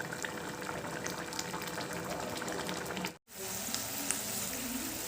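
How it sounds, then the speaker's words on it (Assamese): An Assamese tomato fish curry boiling in a pot, with a steady, close, continuous bubbling and simmering that cuts out for a split second before resuming. "আৰু এইখিনি ভালকৈ উতলিছে।"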